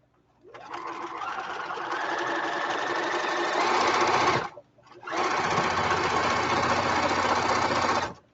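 A sewing machine stitches fabric at close range, a loud continuous mechanical whir that runs for about four seconds, stops briefly, then resumes just as steadily, with no talk over it.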